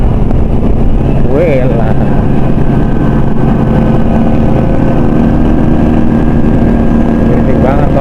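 A jeep passing by on the road, heard as a loud engine drone that swells past, under a continuous motorcycle engine hum and a brief spoken word.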